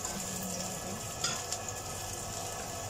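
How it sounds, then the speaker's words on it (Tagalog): Chopped onion and garlic sauté in a hot pan with a steady, close sizzle throughout, broken by a couple of brief stirring clicks midway. "gisahin muna natin yung sibuyas at saka bawang"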